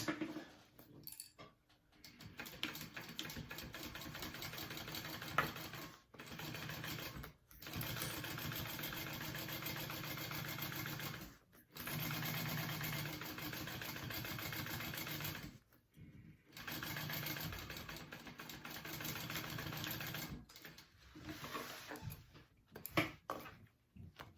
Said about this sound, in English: So I'm gonna sew this on at a 3/8 inch.